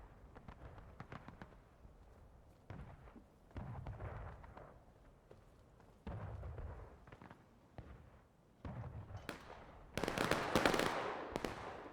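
Cannon artillery booms across a Civil War battlefield in War of Rights, repeated distant blasts rolling out in irregular volleys, with a louder, closer burst near the end.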